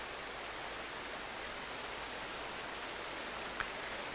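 Waterfall in the video game Tengami, a soft, even rushing wash of falling water continuing steadily, with a faint tap near the end.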